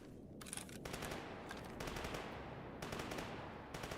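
AK rifle fitted with a silencer firing in Stalker GAMMA, several bursts of rapid suppressed automatic shots separated by short gaps, fairly faint but distinct, with no talk.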